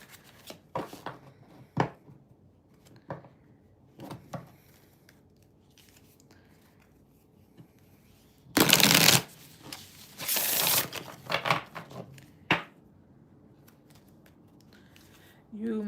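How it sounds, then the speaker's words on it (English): Tarot cards are shuffled in short bursts of riffling and rustling, with two louder flurries near the middle. Scattered taps and faint handling noises fill the quiet spaces, and soft speech is heard at times. "Just shuffle these."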